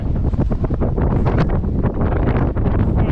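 Strong, cold wind on Mount Cobbler in Victoria's High Country roars steadily into the microphone, a dense buffeting rumble with gusts that never let up.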